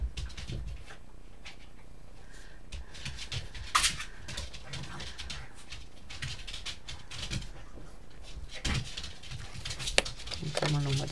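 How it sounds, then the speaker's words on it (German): Dogs whimper and whine faintly in the background of a room while someone speaks over them in German, with occasional rustling and small clicks. "Im Hintergrund hört er meine Hunde."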